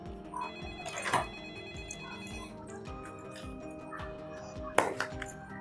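A telephone rings indoors in a repeated electronic pattern of bright, steady tones, with a couple of louder sharp bursts breaking in.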